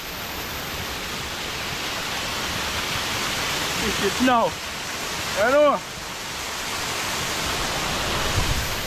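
Waterfall rushing in Portland, Jamaica, a constant broadband roar of falling water close by, with people's voices calling out briefly over it partway through.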